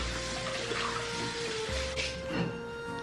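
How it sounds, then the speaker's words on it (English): Tap water runs steadily into a bowl being washed out after making pie crust, a soft continuous splashing stream at close range with occasional clinks. "I need to wash this bowl out because I just used it for the pie crust."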